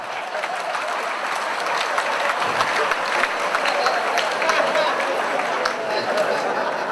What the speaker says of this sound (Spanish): El aplauso para el señor.